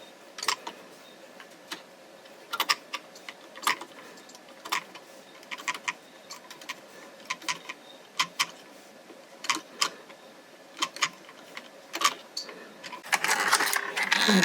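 An LK150 knitting machine carriage casting on 15 stitches with DK weight yarn, giving a run of sharp mechanical clicks and ticks at an uneven rhythm, close and fairly quiet, with a louder rattling burst at the end.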